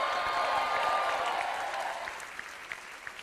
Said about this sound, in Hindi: आई थिंक हमें एक भरपूर तालियां बजानी चाहिए